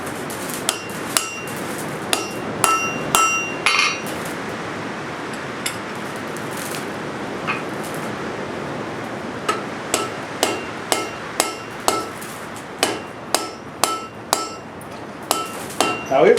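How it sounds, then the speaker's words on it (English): Hammer strikes on hot steel while forging a chisel, sharp metallic clanks ringing out in irregular bursts, then a steadier rhythmic series of blows near the end, over a constant roar from the forge. "Now, even though I'm hammering the end of this is going to be the chisel part."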